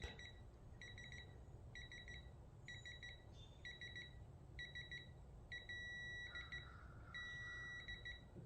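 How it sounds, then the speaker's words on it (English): A torque wrench's electronic beeps repeat in quick paired bursts, then merge into a longer continuous tone at 15 foot-pounds near the end, close and clear over faint background noise. "when it hits 15 exactly it'll just continuously beep"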